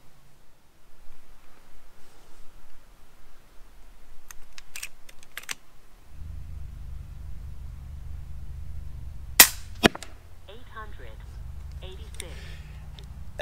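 An FX Impact air rifle fires a 20-grain H&N slug at a target: one sharp crack followed by a second impact snap, set against low rumbling background noise, with small clicks earlier.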